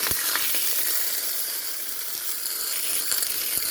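Food fries in a pan with a constant, bright sizzle of hot oil, close and steady, with a few small pops and crackles and no talking.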